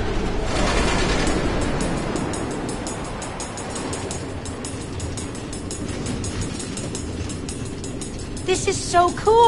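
A train runs on automated tracks through the Nether in Minecraft Story Mode, giving a steady rumbling roll with faint rhythmic clacking. Soft speech sits under it, and a brief musical flourish comes at the end.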